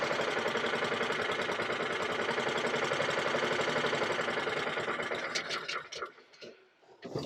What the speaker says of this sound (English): Well, the engine sounds lovely.